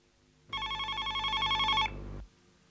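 A telephone bell rings in one steady electronic trill of about a second and a half, loud and close, in a hospital setting, then cuts off, leaving faint room tone.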